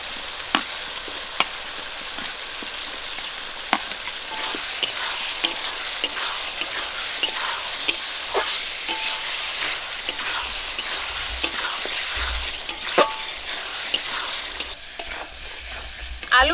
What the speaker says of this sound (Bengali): মশলাটা একটু কষিয়ে নিয়েছি, ভেজে রাখা আলু দিয়ে দেবো।